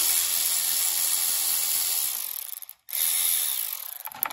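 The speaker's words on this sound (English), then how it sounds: "we're gonna take these two bolts out. It's a 8-millimeter socket." Ratcheting 8 mm socket wrench backing bolts off a Kohler 7000 Series engine, a steady fast clicking up close that pauses briefly and then resumes, with no talk.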